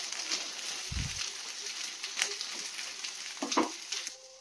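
A school tiffin snack sizzling in an oiled pan just after being flipped, with a steady close frying hiss and a few faint clinks and scrapes.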